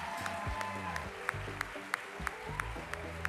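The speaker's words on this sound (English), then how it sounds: "Give them a round of applause" Quiet applause at the NSW Women of the Year Awards ceremony, with sharp individual claps standing out at a regular pace over low background music and room sound.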